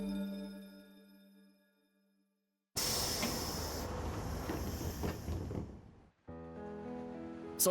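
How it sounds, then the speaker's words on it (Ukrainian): An anime train departing from platform 1 rumbles loudly with a steady hiss after a quiet stretch, then cuts off briefly before the noise resumes. "Потяг відправляється з платформи номер 1 Обережно двері зачиняються."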